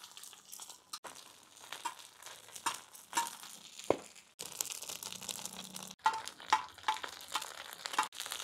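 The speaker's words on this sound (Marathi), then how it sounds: "आपल्याला हे बॉईल अंडे पूर्ण ब्राऊन करून घ्यायचे" Boiled eggs browning on a hot tawa give a steady, moderate crackle and sizzle, broken by scraping and stirring clatter and a few sharp ticks and pops.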